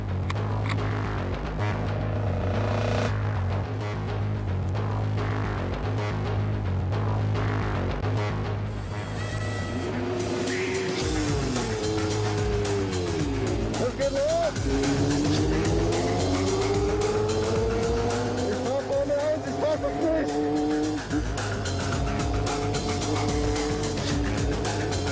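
A 650-horsepower sports car is driven hard on a race track, its loud, continuous engine roar climbing and falling as the revs change, with tire squeal through the corners and no voices.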